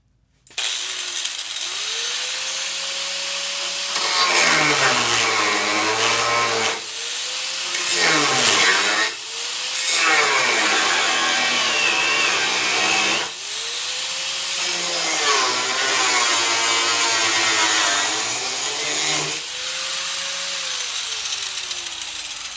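A worn, small cut-off wheel grinding through the fender panel of a 2005 Silverado, a loud high whine in long passes that rise and fall in pitch, separated by short spin-down pauses.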